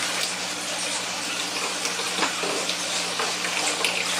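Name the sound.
acid being poured into a container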